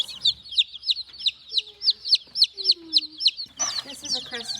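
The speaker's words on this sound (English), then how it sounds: "This is a Crested Legbar rooster." Chickens cluck in a steady rhythmic series of short calls, with a Crested Legbar rooster's sound and other fowl noises close by on a farm; no talking.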